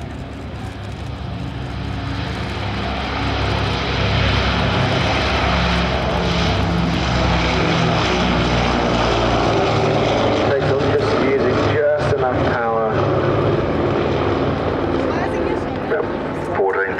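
A Breitling Super Constellation propeller airliner with Wright Cyclone radial engines drones loudly and steadily overhead at an air show flying display, its deep engine roar swelling and holding for the whole stretch, with an announcer talking over it.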